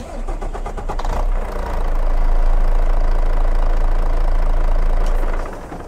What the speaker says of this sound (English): be quiet so you guys can hear the engine.